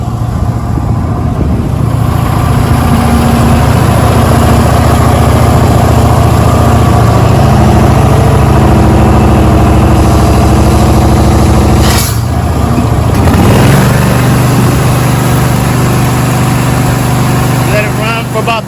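A carpet cleaning machine's engine idles in a steady, loud, low drone that runs unbroken throughout, with a brief hiss-like burst partway through.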